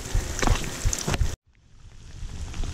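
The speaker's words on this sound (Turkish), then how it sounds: "Çok feci bir yağmura yakalandık." Dense, steady rain noise hisses loudly during a bicycle tour, then cuts off abruptly before fainter rain patter builds back up.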